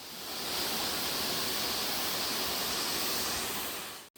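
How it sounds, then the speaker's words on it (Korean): Gugok Waterfall, about 50 m high and dropping through nine turns in a dense forest, a steady broad rushing roar of falling water, heard up close and unbroken until a sudden cut at the end. "폭포가 가까워지면 숲은 더욱 울창해지고 물소리도 더 커집니다"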